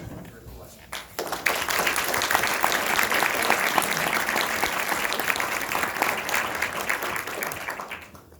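A panel discussion audience breaks into sustained, steady applause welcoming a speaker, swelling after a brief pause and holding at full strength for several seconds before tapering off.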